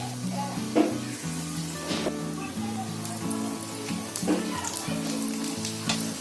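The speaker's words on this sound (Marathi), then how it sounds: "चांगले गोल्डन फ्राय होईपर्यंत, गोल्डन कलर येईपर्यंत भाजायचे, फ्राय करायचे." Batter-coated snacks deep-fry in hot oil, a steady crackling sizzle close up with occasional light knocks and stirring, no one speaking.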